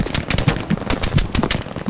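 Sustained machine gun fire in the war game Hell Let Loose at Carentan: a steady stream of sharp, loud shots packed tightly together, with slight swells in intensity and no voices.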